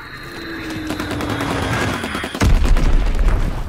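A Fritz X bomb explodes in Call of Duty WWII amid ongoing gunfire. Rapid shots rattle throughout, then a heavy booming blast hits loud and close near the end.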